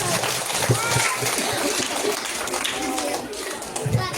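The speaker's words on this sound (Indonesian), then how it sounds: "Tepuk tangan." Elementary schoolchildren clap together at an Isra Mi'raj religious lecture, a dense, continuous patter of many hands that is mixed with voices and crowd noise throughout.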